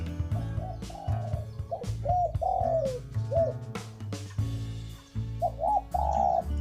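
Repeated soft, rounded spotted dove coos in short, clear, small-voiced phrases, close, with brief pauses between calls.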